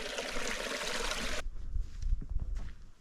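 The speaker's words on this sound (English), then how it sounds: "Really pretty creek flowing through." Creek flowing beside a hiking trail on the way up Clouds Rest in Yosemite, a bright rushing wash that cuts off abruptly partway, leaving faint low trickling and rumbling.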